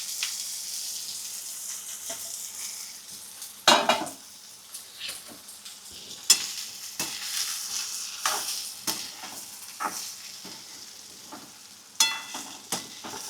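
Sprouted moth beans are tipped into hot tempering with hing and curry leaves, and a quiet steady sizzle follows, broken by sharp clinks of a spoon against the pan as they are stirred.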